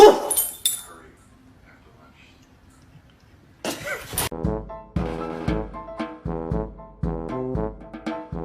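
A dog lets out a loud opening bark, then a quieter lull, then a run of repeated barks. A person's voice is heard nearby.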